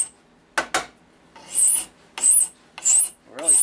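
A hand file rasps across soft metal while trying to remove a foundry lid part. A couple of quick knocks come first, then four distinct harsh back-and-forth strokes, close and loud, each about half a second long.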